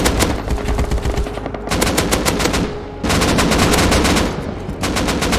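Sustained automatic MP5 gunfire in the video game Rust during a big clan fight, rapid bursts of shots stacking into dense, loud volleys with short breaks, close-up and without speech.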